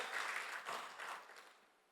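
A church congregation at a worship night breaks into a short, faint burst of clapping that swells briefly and then dies away quickly.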